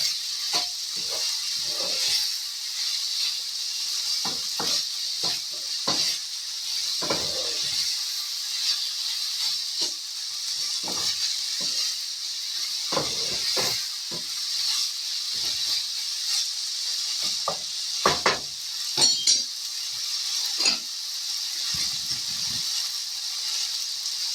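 Taco meat sizzles steadily in a pan as its liquid cooks off, with a constant hiss broken by repeated scraping stirs of the spoon.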